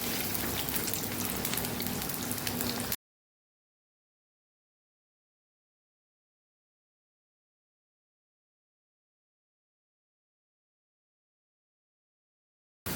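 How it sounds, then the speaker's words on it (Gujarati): Potato chips frying in hot oil for a Kathiyawadi okra and potato dish, giving a steady dense sizzle like rain for a few seconds before cutting to silence. "અહીંયા આપણે બટેટા પહેલાં ફ્રાય કરશું અને પછી ભીંડાને ફ્રાય કરશું।"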